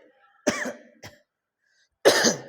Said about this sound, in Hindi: थोड़ा सा मुझे खांसी बढ़ी है